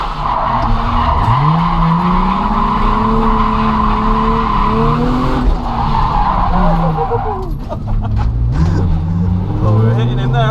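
A Nissan 350Z drifts at Santa Pod with a long, loud tyre squeal under a revving engine whose pitch rises and falls, recorded close from inside the car, with talk in the background.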